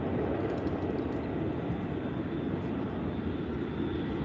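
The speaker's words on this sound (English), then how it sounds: "So that was the awesome Ryanair 737 MAX 8." A Ryanair Boeing 737 MAX 8 at Faro Airport in Portugal gives off a steady, broad engine roar, moderately distant and unchanging, with no voices over it.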